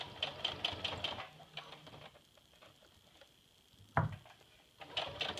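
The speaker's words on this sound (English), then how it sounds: "Now you're just going to keep sewing all the way around" Sewing machine stitching the fabric of a stuff sack, a soft rapid ticking hum that starts, pauses and resumes, with a brief clunk near the end, quiet and close with no talk.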